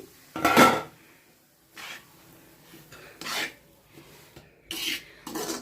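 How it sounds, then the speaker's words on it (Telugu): Bombay rava semolina being roasted in ghee in a kadai: a few short, separate bursts of dry scraping and rasping as a spoon works the grains, with near-silence between strokes and no talk. "ఇక ఇదే కడాయిలోనే మనము బొంబాయి రవ్వ వేయించుకోవాలి ఇదే నెయ్యిలోనే అలాగే వేయించుకోవాలి"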